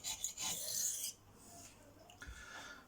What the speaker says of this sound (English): you can actually hear where that burr was scraping across there